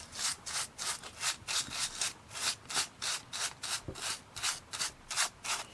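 A cloth rubs quickly back and forth over a glitter-coated die-cut to dust off excess fine glitter, making a fast, rhythmic, close-up swishing that repeats about three times per second, fairly soft.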